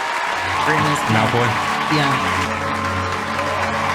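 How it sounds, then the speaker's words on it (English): Applause and crowd noise rise in a Harry Potter film scene, a moderate spread of clapping running under a nearby voice that speaks briefly. "Imagine getting freed from jail and having a applause like that."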